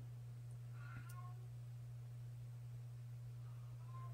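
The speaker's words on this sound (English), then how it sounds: "Can you guys hear my cat?" A 17-year-old cat meows from outside a closed door, two short, muffled calls spaced a few seconds apart over a steady low electrical hum in a quiet room.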